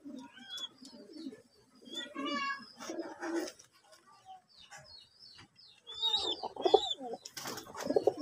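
Pigeons, including young birds, cooing softly in a home loft, with low coos and bird calls scattered through the clip and a brief louder burst near the end.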